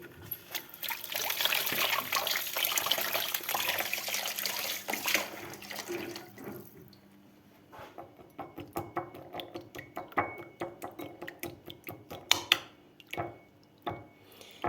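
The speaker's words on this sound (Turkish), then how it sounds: "Elimi yıkayayım." Hands washed under a running kitchen tap, with a steady close stream of water for several seconds, then the flow stops and scattered drips, splashes and small handling clatters follow.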